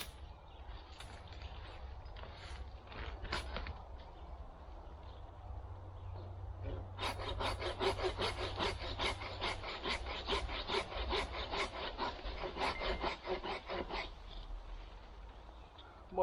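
Rhythmic back-and-forth strokes of a hand saw cutting through dry wood at a riverside campsite, close up, with some scraping and rubbing before the steady sawing begins.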